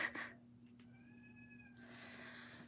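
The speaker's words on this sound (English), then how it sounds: "The cats are at the door." Cats meow at a house door. One short, clear, rising meow is close and moderately quiet against a steady low hum, and a burst of rustling follows it.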